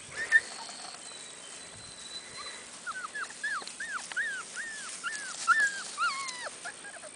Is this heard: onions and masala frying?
no